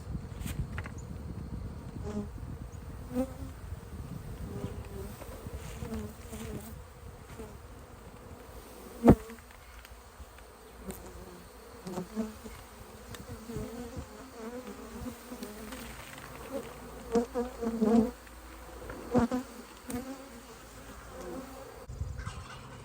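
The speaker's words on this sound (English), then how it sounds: "Got some bees, got some bees." A swarm of honeybees in a tree hums continuously, the buzzing rising and falling as individual insects pass close, with occasional soft knocks and rustles.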